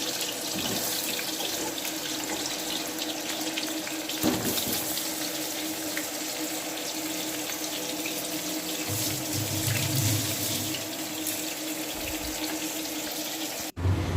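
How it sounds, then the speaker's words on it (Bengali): Whole potatoes frying in oil in a wok for home-made biryani, a steady loud hiss of sizzling oil throughout, close and unbroken, with a brief stir or clatter partway through. "তো চলো এগুলোকে ভালো করে ভেজে নিই।"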